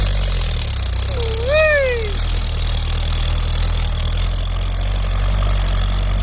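A Kubota L4708 tractor engine gives a steady, low rumble the whole time, with a brief rising-and-falling whistle near the start.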